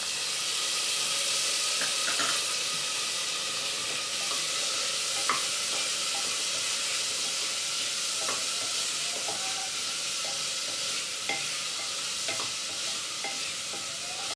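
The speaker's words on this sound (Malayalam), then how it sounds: "പച്ചക്കറികൾ ചേർത്തതിന് ശേഷം ഒന്ന് നന്നായിട്ട് വഴറ്റി കൊടുക്കണം" Chopped vegetables sauté with onion and garlic in a pan for masala oats, a steady close sizzle with occasional clicks and scrapes of a spatula stirring throughout.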